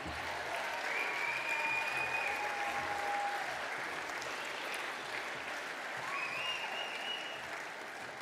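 Sustained applause from a crowd greeting the 2020 Phil Walsh Best Team Man award winner, a steady wash of clapping with a few whistles, moderately distant and continuous throughout.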